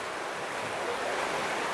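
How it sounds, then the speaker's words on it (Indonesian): Big ocean waves breaking on the eroding shore at Aceh Singkil, a broad continuous roar of surf with some wind noise and no voices. "Ombak besar datang ya guys"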